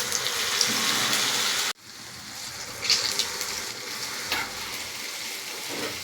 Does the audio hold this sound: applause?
no